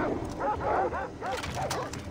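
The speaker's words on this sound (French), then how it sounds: "Ah, c'était juste du chien!" A dog in the video game Far Cry 3 yips and barks in short bursts, with a few whimpering tones over game background noise and faint voices.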